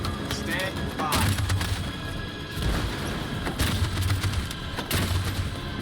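Bursts of machine gun fire and explosions in the video game Detroit: Become Human, loud rapid gunfire with heavy low booms and crashes over continuous battle noise.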